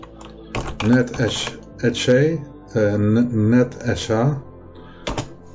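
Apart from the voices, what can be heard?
typing on a computer keyboard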